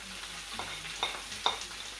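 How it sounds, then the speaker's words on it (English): Onion sizzles softly in oil left in the pot after browning chicken, a steady low crackle broken by a few scraping stir strokes and faint clicks, close and quiet with no voices. "Just put your onion in there"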